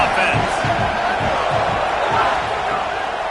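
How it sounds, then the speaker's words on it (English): A football stadium crowd at a Missouri at South Carolina game roars steadily against the offense, a loud, sustained wall of cheering and yelling with a commentator talking over it. "This crowd trying to make life miserable for this offense."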